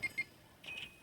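Checkout beeps at a cash register in a supermarket simulator game: two short, high electronic chirps, a brief gap, then a longer cluster of beeps, fairly faint.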